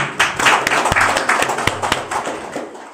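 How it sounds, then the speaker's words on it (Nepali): A church congregation at a Good Friday service clapping to thank a worship leader, close, loud, dense applause with distinct sharp claps standing out, tapering off over a few seconds. "हामी उहाँलाई पनि ताली बजाएर धन्यवाद दिउँ"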